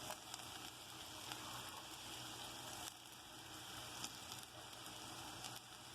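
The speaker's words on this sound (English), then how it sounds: "You're going to fry the tortilla strips like so." Tortilla strips frying in oil in a skillet give a steady, dense, faint sizzle with fine crackles throughout and occasional slightly sharper pops, with no voices over it.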